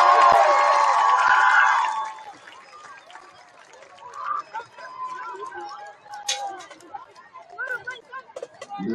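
Football crowd at a high school game cheering for the Bearcat Marching Band: a loud burst of applause and cheering in the first two seconds, fading into scattered whoops, chatter and distant crowd noise.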